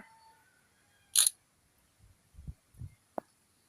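Smartphone camera shutter sound when capturing a photo: one crisp, bright click burst, followed by a few soft low handling bumps and a short tick, close and quiet, with no talk.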